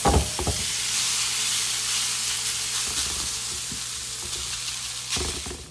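Potato portions frying in a preheated pan, a loud steady sizzle and hiss from the start, with a few clunks as food is placed in and again near the end.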